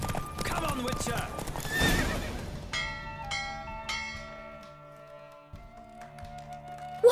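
Hooves clip-clop in quick rhythm as a horse races in The Witcher 3, with a whinny and background voices and bell-like tones over the pounding gait.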